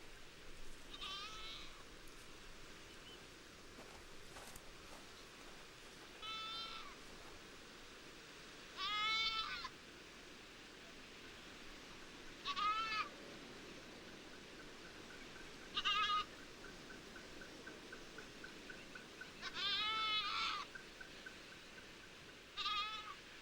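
Goat tethered as bait for a lioness in Asian lion habitat, bleating again and again in short wavering calls spaced several seconds apart, moderately near over a quiet outdoor background.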